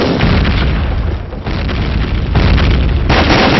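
A grenade thrown onto a teammate explodes in a first-person shooter match: loud, close, rumbling blasts fill the clip in a few surging waves with no pause between them.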